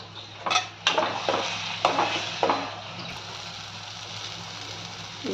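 Chili paste masala fries in a pan for a Bengali chutney, steady low sizzle under several sharp scraping stirs of a spatula against the pan in the first half, then a quieter continuous fry.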